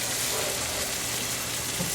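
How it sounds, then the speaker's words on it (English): Pasta and peas being stirred in a pan give a steady, close hiss and soft scraping that runs evenly for the whole stretch, with no voices. "And I'm going to give those a stir."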